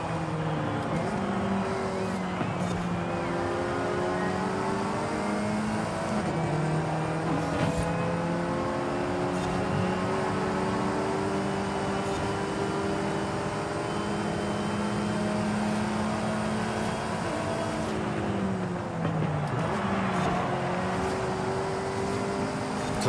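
A video-game Alfa Romeo 4C racing car engine drones steadily and loudly, its pitch rising and falling through gear shifts and corners for the whole stretch.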